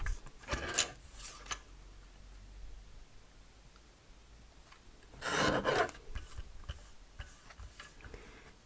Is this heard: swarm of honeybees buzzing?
no